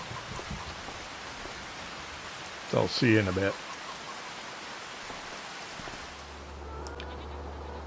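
Steady rain hiss in Farming Simulator 25, a continuous broadband wash across the whole stretch, with a brief spoken line from a man partway through.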